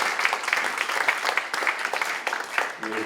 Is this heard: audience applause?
yes